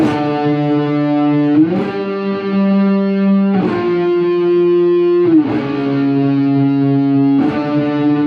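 A distorted electric guitar plays sustained chords with a thick octave effect, changing roughly every two seconds in a steady rhythm.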